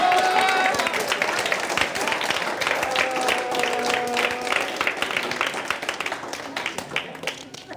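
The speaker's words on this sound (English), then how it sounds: "Give him a round of applause" Audience applause for a mentalist's stage act, a dense wash of clapping that stays fairly loud and steady before slowly thinning, with voices murmuring underneath.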